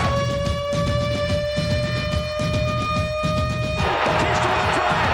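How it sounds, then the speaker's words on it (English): A loud, steady siren tone broadcast from a sports event holds for several seconds, then cuts off and gives way to a dense crowd roar. "Here comes the siren."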